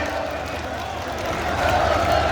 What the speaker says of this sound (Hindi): जोरदार तालियों से स्वागत और अभिनंदन करें